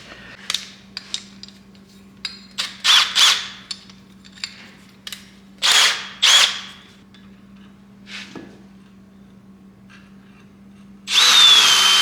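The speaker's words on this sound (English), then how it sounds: "we're going to drill that hole out to the diameter of the threaded end of the ball joint" A power drill boring out a hole for a ball joint in a Silverado spindle on a 1967 C10, in short whirring bursts with pauses, clicks and knocks between them, under a steady low hum.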